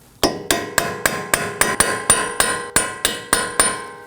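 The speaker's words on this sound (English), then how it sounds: "I'll be taking a punch and hammer and striking this inner indent of the axle shaft" Thirteen evenly spaced metallic hammer blows on a punch against the inner indent of a Toyota Corolla front axle shaft ring out sharply, each followed by a brief bright decay, with no voices.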